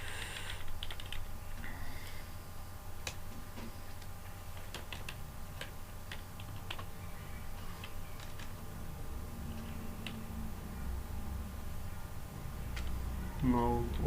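C++ code being typed on a computer keyboard, quiet scattered key clicks running through the whole stretch with a faster flurry near the end, under a speaking voice.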